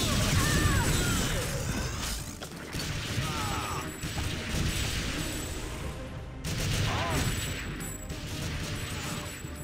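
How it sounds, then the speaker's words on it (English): Shotgun blasts in the TimeSplitters first-person shooter game: loud, repeated booming shots across the whole stretch, layered over dense clattering game noise with no pauses. "Shotgun blast from hell."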